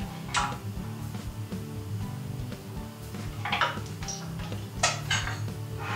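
Flour and nori seaweed stirred together in a bowl, giving light clinks and scrapes of a utensil against the dish in an irregular rhythm, close and fairly quiet with no talking.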